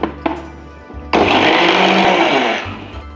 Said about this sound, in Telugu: పచ్చిమిరపకాయ పేస్ట్ ఇలా పట్టుకోవాలండి.